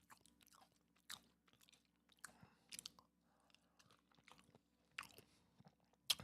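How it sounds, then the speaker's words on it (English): Crunchy chips are chewed up close in quiet, scattered bites, sharp crackles separated by soft pauses, with no voices. "Put some chips in there for the crunch."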